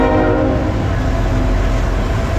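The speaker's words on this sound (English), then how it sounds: "So I'm waiting for this train to pass," Long freight train rolling past a road crossing, a steady loud rumble of rail cars with clatter throughout and a horn sounding.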